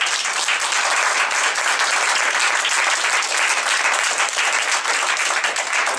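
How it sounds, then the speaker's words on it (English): Sustained audience applause at a conservative political gathering, dense steady clapping filling the room without pause and loud throughout, no voices standing out above it. "Give Derek Wilborn a big hand clap of praise right now"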